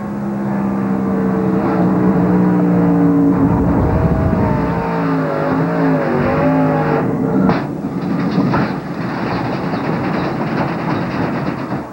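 Onboard a 1997 ARCA stock race car at Atlanta Motor Speedway, a loud, continuous engine drone with rumbling lows and shifting tonal pitch fills the cabin, steady and close, with no speech.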